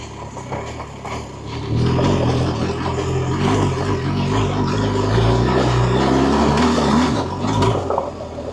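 A BMW R1250GS Adventure motorcycle climbs a loose dirt trail up Santiago Peak, its engine droning steadily and loud up close, with rumbling gear and gravel noise after a quieter opening.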